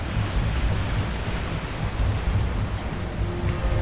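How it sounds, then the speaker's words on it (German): Heavy rain in the Uncharted 3: Drake's Deception video game pours as a dense, steady roar of noise, loud and continuous with no talk over it. "es regnet wie die Sau"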